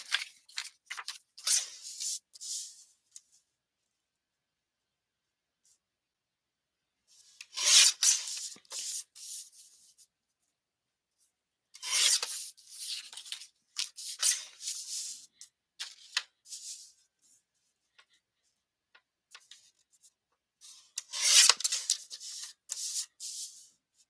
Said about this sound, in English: I'm going to try to cut these real fast.